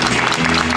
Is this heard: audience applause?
yes